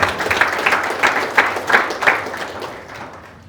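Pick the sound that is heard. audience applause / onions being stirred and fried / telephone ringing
audience applause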